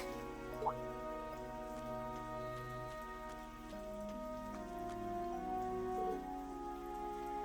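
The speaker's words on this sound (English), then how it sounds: "Oh no! I didn't think it was raining this hard." Steady rain in the video game Trails of Cold Steel III pattering on a surface, soft and continuous, with faint tonal music humming underneath and no speech.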